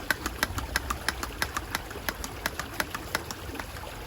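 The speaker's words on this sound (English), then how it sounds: "unscrew and again pump the water." A hand pump on a water filter bottle clicks in a quick, steady rhythm, each stroke giving a short sharp tick over a low background rumble.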